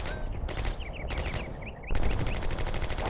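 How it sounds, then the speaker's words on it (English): Rapid machine gun fire in the WWII strategy game Combat Mission: Beyond Overlord, loud and close, coming in dense bursts with brief gaps and overlapping shots, growing heavier toward the end. "Alright, I hear some gunfire."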